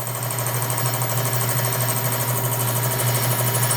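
Steady, loud machining drone from a Hardinge lathe taking a facing pass, with a constant low hum and a fine rapid chatter, continuous and close.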